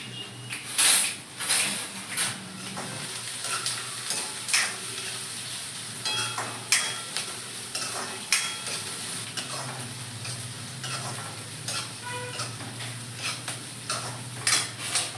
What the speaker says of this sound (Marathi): कांदा आणि भाज्यांना आपल्याला जास्त परतवायच्या नाहीये बस त्यांचा कच्चापणा जायला पाहिजे